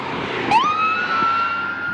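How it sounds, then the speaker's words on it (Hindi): A single siren tone rises and then holds steady, loud and fairly close, over street background noise in Billund, Denmark; it is identified as an ambulance passing. "ओह, एम्बुलेंस थी, डरी गया मैं।"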